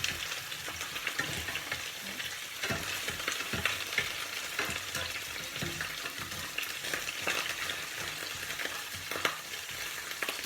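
Violet artichokes browning in a hot pan give a steady, close sizzle and fry with crackling pops and a few stirring scrapes, continuous and alone with no talk.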